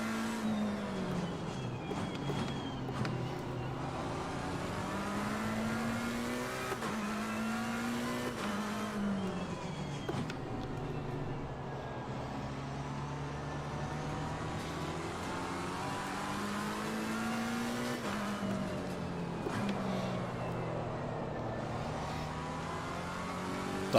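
Race car engine in Assetto Corsa Competizione at the Hungaroring, revving and falling through gear changes with a botched downshift, a continuous close engine note rising and dropping over about twenty seconds.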